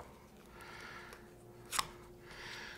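A single sharp snip cuts a strip of material off at the end, making a brief crisp click over faint room noise while a juice groove template is made.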